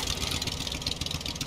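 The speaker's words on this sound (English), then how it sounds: "I wonder if the engine can..." A boat engine running in the survival video game Stranded Deep, a short steady mid-pitched idling hum with a faint rough flutter, heard alone.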